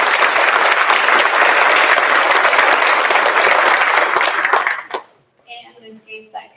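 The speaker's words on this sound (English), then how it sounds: "Let's give him a round of applause." An audience at a school district board meeting claps steadily for about five seconds, dense and even, then the applause cuts off and a voice speaks briefly.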